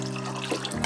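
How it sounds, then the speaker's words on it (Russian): Filtered water pours from a tap into a bowl of sprouted chickpeas, a brief close splashing stream that shifts pitch as the level rises. "Заливаю чистой фильтрованной водой примерно на 3 пальца выше уровня нута."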